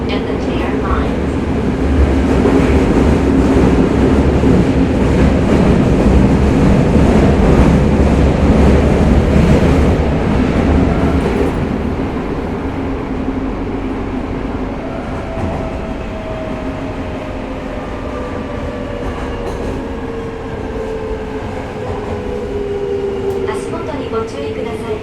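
A Tokyo Metro 05 series local train with a Mitsubishi IGBT inverter runs from Nishi-Funabashi toward Nakano, heard from inside as loud, continuous wheel and track rumble, with the inverter's pitched motor tones rising and falling as it changes speed.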